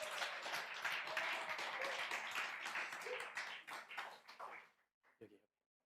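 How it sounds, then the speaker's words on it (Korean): A church congregation gives a big round of applause at a Sunday afternoon service. The clapping is dense and steady, then fades out, leaving a few last isolated sounds after a pause. "큰 박수 부탁드리겠습니다."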